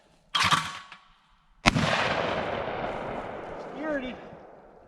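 Two sharp, loud blasts from a 20 gauge Harrington and Richardson single shot shotgun at a private gun range during skeet shooting, the second followed by a long rolling echo and faint voices.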